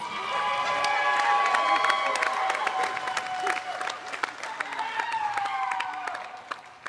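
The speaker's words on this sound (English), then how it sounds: "Give them all a big round of applause" A crowd applauds and cheers for the finalists at the STIHL Timbersports 2022 U.S. Women's Championship, clapping loud at first and then thinning, with shouts and whistles over an arena announcer's voice.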